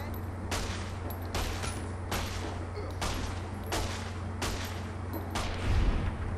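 Repeated gunshots in Fallout New Vegas, about eight evenly spaced cracks at a steady rhythm over a constant low hum, close and moderately loud with no talking.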